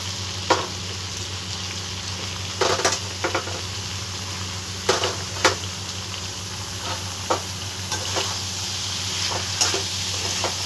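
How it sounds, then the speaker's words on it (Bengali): Bottle gourd in frying spice paste for a prawn and gourd curry sizzles steadily in the pan, with a few sharp scraping clacks as it is stirred and turned over. The sizzle is up close and there is no talk. "লাউটা দিয়েও একবার কিছুটা দিয়ে আমি নেড়ে চেড়ে দিলাম, ওপর নিচ করে দিলাম।"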